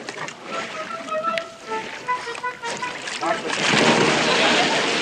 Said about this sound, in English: Don't splash like that.